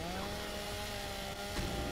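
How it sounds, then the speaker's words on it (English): A chainsaw in Gears of War cutting through an obstacle, a continuous buzzing engine drone over game background noise for two seconds. "we chainsaw through this"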